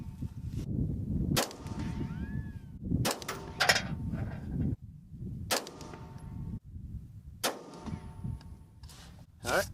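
A 10.5-inch AR-15 fires five sharp shots of Nosler 77-grain 5.56 ammunition, spaced roughly two seconds apart, each a loud crack with a short ringing tail over steady outdoor background noise.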